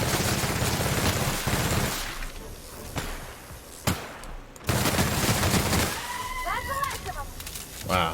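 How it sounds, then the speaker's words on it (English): A Mark II light machine gun fires in the video game The Outer Worlds, dense sustained bursts of rapid gunfire broken by brief pauses and sharp impacts, with game effects mixed in. "let's try out the light machine gun Mark II"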